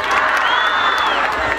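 A concert crowd in Tuxtepec, Oaxaca, cheers and applauds loudly in a dense wash of clapping, whoops and shouts, with one high whistle rising above the roar.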